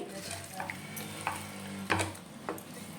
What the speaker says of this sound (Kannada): ಈಗ ಸ್ವಲ್ಪ ನೀರನ್ನು ಹಾಕ್ಕೊಂಡು ಇರೋ ಹಿಟ್ಟಿಗೆ ಈ ರೀತಿ ಕಲಸಿ ಇಟ್ಬಿಡ್ತೀನಿ